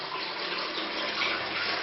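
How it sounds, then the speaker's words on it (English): Hot water runs from a sink tap in a hotel room, a steady, close, rushing splash that continues without a break and without any talking. "I turned on the hot water here."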